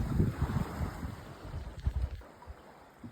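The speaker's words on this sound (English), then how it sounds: "here we're doing something called wing and wing sailing. We've got one sail out to each side" A sailboat running wing and wing with one sail out to each side moves through wind on open water near Hotham Island, a rushing gusty wind roar buffeting the microphone with faint water noise beneath.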